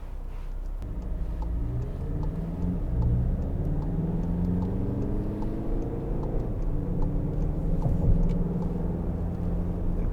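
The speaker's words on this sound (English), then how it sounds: "Lovely car here coming around, another nice car on a day like this" A passing car heard from inside a Volkswagen Golf 2.0 TDI BlueMotion on a test drive, a steady low engine and road rumble throughout with a slight swell near the end.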